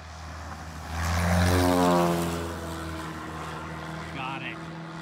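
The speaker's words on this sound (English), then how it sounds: "This plane picking up a banner." A banner-towing airplane makes a pass to pick up its banner. Its propeller engine drone swells loudly as it comes close, then fades to a steadier hum, heard alone without voices.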